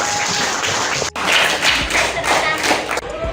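Classroom clapping from students in a school class, a dense burst of many hands clapping together for a few seconds, fairly loud and continuous with a brief dip partway through.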